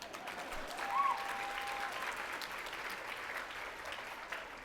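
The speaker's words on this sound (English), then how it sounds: "Yes, you can applaud." Applause from an audience at an annual dinner keynote, a fairly quiet, steady wash of clapping heard from a distance that holds evenly throughout.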